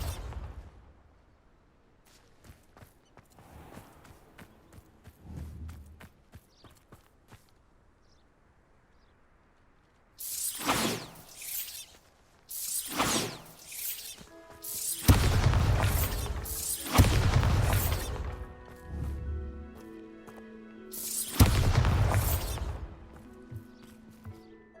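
Bombarda blasting spell explosions in Hogwarts Legacy erupt in four heavy, loud bursts with shattering crashes and rumbling debris, spaced a few seconds apart after a quieter stretch of scattered clicks and faint game ambience.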